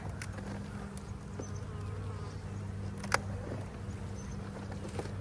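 Honeybees in an opened hive during a split make a steady low droning buzz, close and continuous, with a few faint clicks and taps over the hum.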